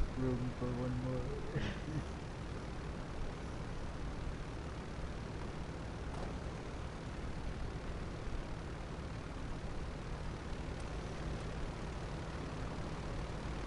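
A propeller airplane engine drones steadily from an airplane in GTA 5 Online, a constant broadband roar that holds throughout, with brief voices and game sounds over it at the start.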